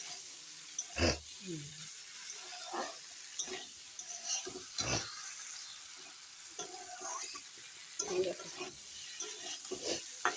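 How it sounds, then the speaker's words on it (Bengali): Cauliflower frying in a pan is stirred with a spoon, making intermittent scrapes and knocks over a faint, low sizzle in a quiet kitchen. "ফুলকপিগুলো দিয়ে একটু নেড়ে চেড়ে জল দিয়ে দেব"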